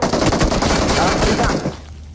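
Rapid automatic gunfire from a shooter video game rattles close and loud in a dense continuous burst, then cuts off abruptly near the end.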